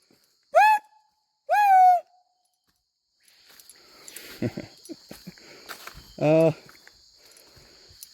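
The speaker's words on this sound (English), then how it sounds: "Makes my heart warm and fuzzy, these birds do." A few clear whistled bird calls, then quieter chirps and scratchy rustling with a later louder call, close by in a quiet setting.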